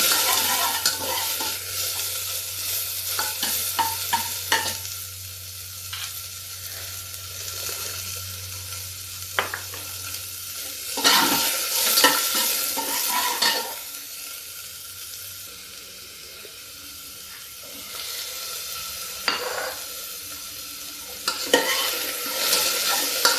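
Onions fry in hot oil for an Indian dal-stuffed puri meal, a faint sizzle under repeated clattering stirs of a spoon against the pan, with louder scraping bursts near the middle and end.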